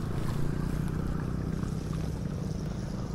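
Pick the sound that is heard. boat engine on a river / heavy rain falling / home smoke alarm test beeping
boat engine on a river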